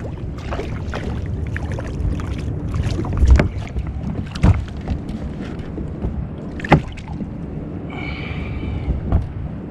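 An old diesel engine drives a fishing boat on the sea during September bass fishing, a low steady chugging hum under wind buffeting and water splashes, with occasional knocks on the hull.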